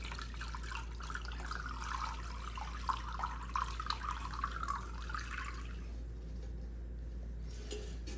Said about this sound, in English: So now let's gently pour this over the beef.